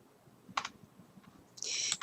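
Quiet room with a couple of soft keyboard arrow-key clicks, then a brief burst of rapid clicking near the end.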